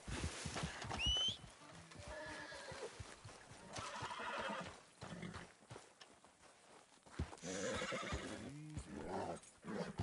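Horse whinnying in the video game Red Dead Redemption 2, several high whinnies and snorts with hoof clops in between, fairly close and moderately loud, with no talking.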